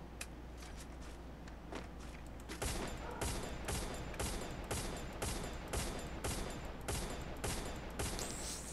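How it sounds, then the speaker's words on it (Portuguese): Rapid bursts of gunfire crackle in quick succession, sharp repeated shots with brief pauses between volleys, fairly close and loud, in the video game Free Fire. "É o último tiro."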